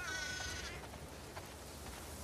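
One short sheep bleat in The Last of Us Part II sounds at the start, then fades into a steady low ambient hum with faint clicks.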